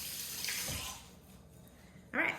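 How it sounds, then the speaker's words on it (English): A kitchen tap runs as hands are rinsed under it, a soft steady splash that fades midway, followed by a short burst of water at the end, with a brief spoken word early on. "I'm gonna actually rinse my hands real quick."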